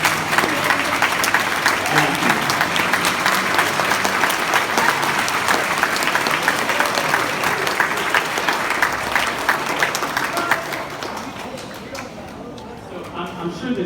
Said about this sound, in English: can you please stand up so that we can give you a round of applause if you make honor band?